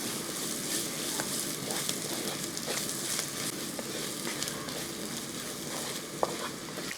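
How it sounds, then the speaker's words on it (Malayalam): Onion and grated coconut sizzle steadily in a hot pan for a shrimp fry, a dense continuous hiss with faint scrapes of stirring throughout and one sharp click near the end, no voices. "തേങ്ങാപ്പീര ഇട്ടതിന് ശേഷം ഒന്ന് ഇളക്കി കൊടുക്കുക"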